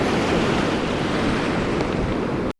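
Ocean surf breaking close by on an Oregon beach, a loud, continuous roar of crashing and washing water with wind noise throughout, ending abruptly.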